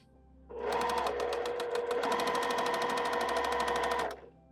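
Sewing machine joining two small quilt pieces for a springtime bunny quilt, starting abruptly and running at a steady, rapid close stitching rhythm for about three and a half seconds before stopping.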